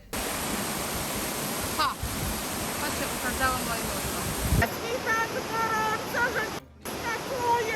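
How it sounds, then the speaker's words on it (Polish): The Wadi Darbat waterfall near Salalah, Oman, roars as a steady, dense rush of falling water throughout, with faint voices in the background. "jeśli marzy Wam się kąpiel pod wodospadem, to w pobliżu Salali znajduje się ukryte wśród skał miejsce, tak zwany Wadi Darbat"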